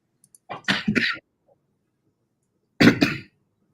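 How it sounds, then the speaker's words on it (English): A smoker coughs: a short cluster of harsh, close coughs, then a pause and a second, louder pair, with no talking. "as a smoker, I'll cough every once in a while."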